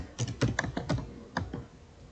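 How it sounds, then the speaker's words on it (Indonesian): Typing on a computer keyboard at a command line, with about eight crisp, close key clicks in an uneven burst that tapers off near the end. "Misalkan di sini saya ketikkan downloads."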